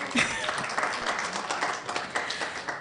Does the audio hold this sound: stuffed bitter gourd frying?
no